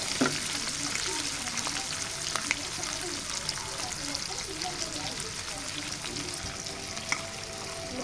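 Onions, cumin and green chillies fry in a kadai, a dense, close crackling sizzle that holds steady throughout, with occasional stirring scrapes and pops.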